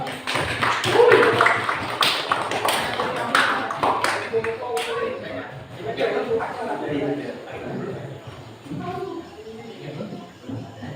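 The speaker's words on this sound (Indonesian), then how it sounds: "Kasih aplaus." A classroom group applauds in scattered, uneven claps that are densest at the start and thin out, with voices talking over and after them.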